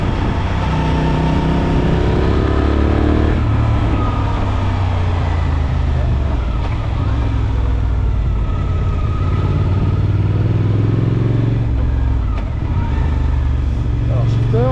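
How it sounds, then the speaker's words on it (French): A Suzuki V-Strom 800SE twin-cylinder motorcycle engine runs loud and close, a steady throbbing drone with rising and falling revs that carries on throughout. "Le bruit est pas mal, un petit twin, un vrai twin."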